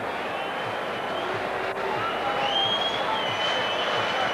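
A 73,000-strong rugby league stadium crowd murmurs and buzzes steadily while awaiting a video referee's decision, a dense far-off wash with scattered whistles and a few stray shouts rising through it.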